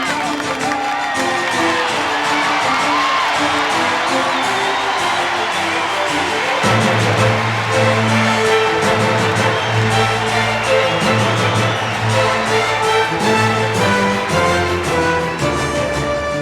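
A New York crowd roars under the lights at a Friday night 1992 US Open tennis match featuring Jimmy Connors, with loud sustained cheering and whooping that swells midway and stays dense throughout.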